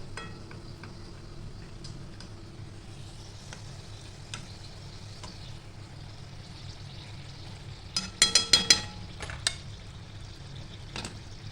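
Karanji pastries frying in hot oil, a soft steady sizzle with occasional light clinks, then a quick cluster of louder metal utensil clatters toward the end, close and quiet with no speech.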